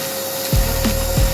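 A yellow Fortis vacuum cleaner runs with a loud, steady broadband roar and a constant whine, joined by a few brief rubbing or scraping sweeps as the nozzle moves, close and alone without talk.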